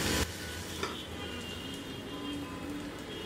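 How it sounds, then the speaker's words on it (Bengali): A cheese-filled egg and flour snack sizzles steadily in a pan, a soft continuous frying hiss with faint ticks and no talk. "পাশটা একটু ভাজা, একটু গরম করে নিই যাতে চিজটা নরম হয়ে যায়"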